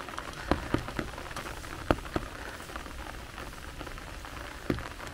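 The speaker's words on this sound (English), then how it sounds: "Still raining." Rain falling on a meadow at the edge of a forest during a September outing, a soft continuous patter with a few distinct nearby drops tapping at irregular moments.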